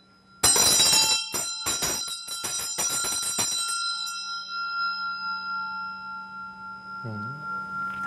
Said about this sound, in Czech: A potom vlastně tady ty zvonečky dilbu.